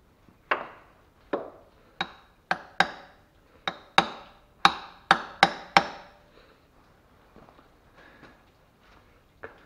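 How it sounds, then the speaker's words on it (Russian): Eleven sharp metallic hammer taps seat a drive oil seal on the manual gearbox of a 1993 Toyota Corolla EE100, close and fairly loud, in an uneven rhythm, then a few faint knocks as the tapping trails off. "А теперь осаживаем ровненько молоточком."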